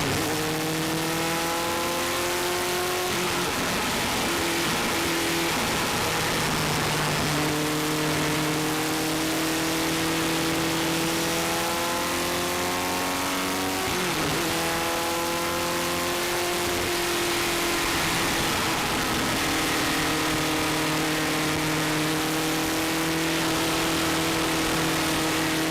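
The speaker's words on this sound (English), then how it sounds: "We're faster than the cars behind us and slower than those in front, so we'll concentrate on having a safe start." Vintage race cars accelerate off the green flag at the start at Mosport, engines droning loud and near, rising through the gears in repeated climbing sweeps with brief dips at the shifts, one car passing close partway through.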